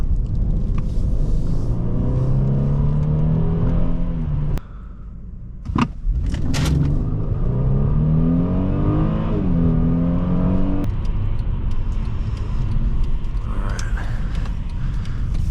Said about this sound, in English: Oh, this launch is so violent.